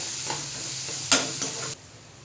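Tomatoes sautéing in a pan for kurma, a soft steady sizzle with a scrape of stirring and a brief louder clatter midway, close and moderate, ending abruptly.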